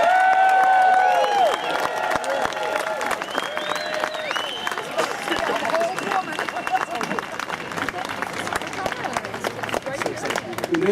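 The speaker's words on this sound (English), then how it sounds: "Doug Lafollette a round of applause." Rally crowd at the Wisconsin Capitol applauding, a dense continuous patter of many hands clapping with scattered cheers and background chatter, loud and sustained throughout.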